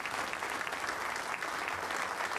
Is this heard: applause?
yes